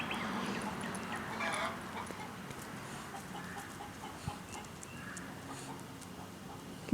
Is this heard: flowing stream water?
no